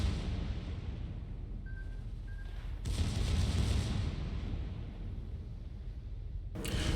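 The secondary guns of a Tier 5 Royal Navy warship fire in a naval video game. Two sharp, booming blasts stand out over a constant low engine and sea rumble, with no voices.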